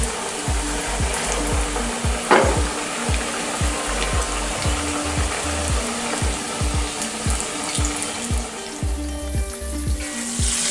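Chicken frying in oil over a medium flame, a loud, steady sizzle with crackling throughout, with a rhythmic thumping underneath and no talk.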